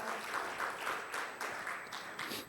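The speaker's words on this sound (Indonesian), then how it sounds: "Ayo beri tepuk tangan yang meriah bagi Tuhan kita" A church congregation claps for the Lord during a service, a moderate, somewhat distant round of applause with a loose, pulsing rhythm across its short span.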